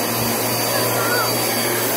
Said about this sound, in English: Show me how to vacuum?